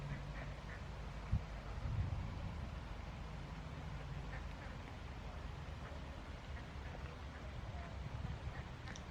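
Ducks at a garden pond in a rhododendron garden, with soft, scattered quacks at a distance under a steady wash of outdoor background noise.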